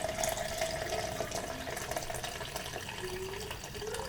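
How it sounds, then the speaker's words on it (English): Elderberry syrup mixture poured through cheesecloth into a container, a steady continuous liquid rush with a faint rising gurgle near the end, close and unbroken, with no voices. "just pour my mixture in"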